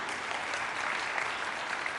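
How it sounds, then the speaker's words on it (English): Applause for a session at the COP26 UN climate change conference, where leaders made an announcement on forests; a steady, fairly distant clapping from the audience fills the whole span without any speech. "may we continue to give them a round of applause"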